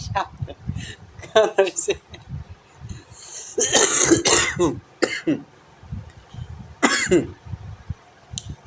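A person coughing repeatedly while laughing, harsh bursts and throat clearing mixed with laughter and talking, close and fairly loud.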